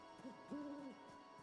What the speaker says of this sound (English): I just heard an owl.